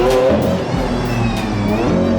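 Lamborghini engine revving hard in a launch, a loud, close, sustained roar with rising and shifting pitch and no pauses.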